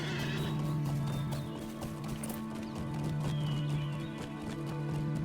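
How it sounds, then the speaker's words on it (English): A horse in the video game LOTRO whinnies, with a sustained tonal neigh over steady galloping hoofbeats and a droning musical background, loud and close. "We're going to get on a horse this time"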